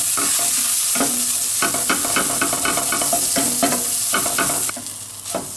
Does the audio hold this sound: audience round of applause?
no